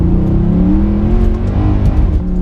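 A powerful 490 bhp Mercedes C63 AMG engine hums and revs steadily in second gear up close, loud and continuous, with a few crackling pops from the exhaust.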